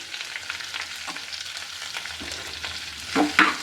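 Amaranth leaves dropped into a hot tempering of spices and curry leaves, frying and stirred in a pan: a steady, soft sizzle runs throughout, with louder scraping stir strokes near the end and no talking.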